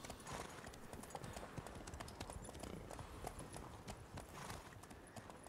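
Armoured horse's hooves in Witcher 3: Blood and Wine, a steady run of quick clip-clop hoofbeats at a trotting pace, fairly close and clear throughout the stretch, with no speech over them.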